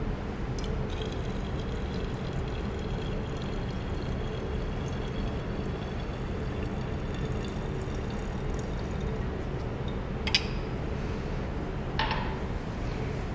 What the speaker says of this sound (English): Open the glass stopper and pour our solution into the funnel.